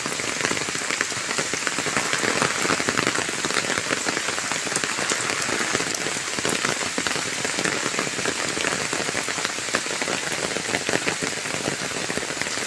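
Heavy rain pours steadily over a remote rural village in Java, a dense, loud, unbroken hiss of drops striking roofs and ground with no pauses.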